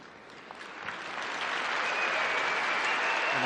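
Stadium crowd at a Laver Cup tennis match applauds Rod Laver, a broad wash of clapping that swells steadily and stays loud throughout.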